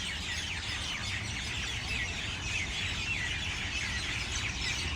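Small birds, sparrows by the description, chirp steadily outdoors in Abu Dhabi, a dense continuous twittering chorus over a low background rumble, with no talking.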